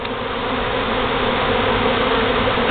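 Honey bees being scooped into a hive make a dense, close, continuous buzzing swarm drone that stays loud and even throughout.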